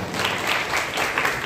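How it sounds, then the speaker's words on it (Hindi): Audience applause at an Arya Samaj gathering, a dense, steady burst of many hands clapping together, loud and close, filling the short moment without a break. "इनके लिए एक बार जोरदार आप लोग ताली बजाएं।"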